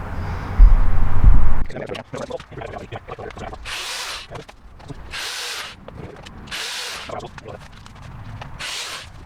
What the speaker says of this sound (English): I want to pre-drill some holes through that too as well, so the screws don't snag on that when they go into the studs